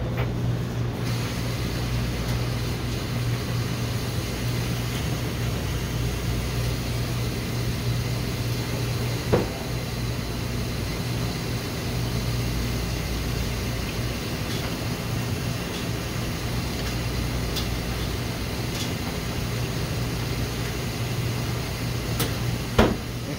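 An Electrolux washing machine on its rinse cycle gives a steady low drone and hum at moderate level, with a couple of faint knocks along the way.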